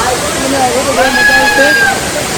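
Paniyari waterfall near Paniyari ashram pours in a constant broad rushing roar, loud and close, while a person talks over the water.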